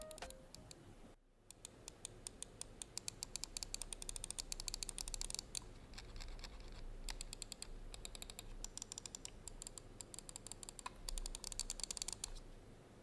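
An Inno X1 computer mouse with Huano Blue Pink Dot switches clicks in a fast, continuous run of crisp, close but quiet taps, with one brief silent gap near the start.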